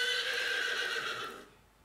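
A horse neighs loudly, one drawn-out whinny close by that trails off and fades into quiet.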